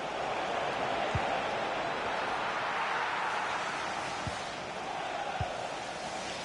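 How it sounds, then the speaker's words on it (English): A large stadium crowd in the FC 26 football video game roars steadily in the distance, a dense wash of cheering noise with a few faint thuds underneath. "just listen to this crowd. They want a bit more."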